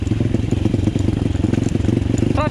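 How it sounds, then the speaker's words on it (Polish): A new pit bike's small engine runs in gear with a fast, steady, loud putter that sounds laboured and clattering, close by, with no talk. "a na biegu to silnik ma tak ciężko"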